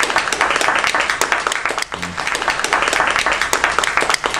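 Toastmasters class audience applauds a speaker's icebreaker speech, a steady room-filling patter of many hands clapping at close range for several seconds.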